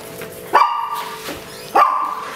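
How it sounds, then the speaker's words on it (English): A dog indoors near the door gives two sharp, loud barks about a second apart, each ringing briefly in a quiet room. "he barks every time you go outside the door."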